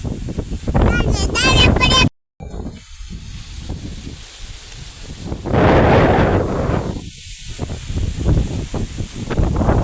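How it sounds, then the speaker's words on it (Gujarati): Strong wind roars and buffets against the microphone in gusts, with people talking intermittently over the blustery noise. "પવન થઈ ગયું છે, કેટલો વરસાદ આવે એમ થઈ ગયું"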